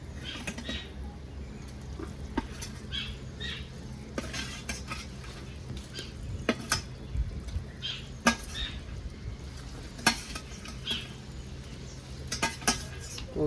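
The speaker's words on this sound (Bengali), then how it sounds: "এবারে আমি দিয়ে দেবো কোপ্তাগুলো।" Prawn koftas go into a pan of gently simmering village-style gravy, giving soft plops and scrapes of a spoon against metal, with a faint bubbling underneath in a quiet kitchen.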